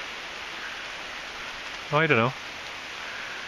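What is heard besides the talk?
rain falling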